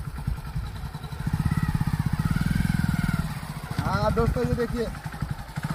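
A motorcycle engine idles with a steady, close thumping putter while the rider shifts into gear, someone speaking over the engine noise.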